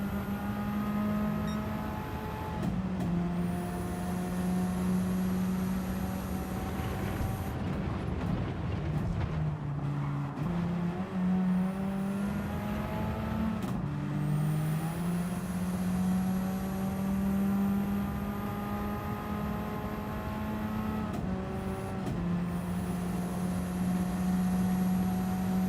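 A race car engine in Gran Turismo 7 drones at a steady tone, sagging and bogging, then jumps through repeated upshifts with pitch drops and high whining rises, continuous and close throughout.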